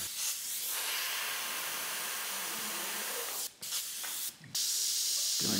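Airbrush spraying paint on a monotone portrait, a close, steady airy hiss running almost continuously, broken by two brief cutoffs near the end before resuming louder.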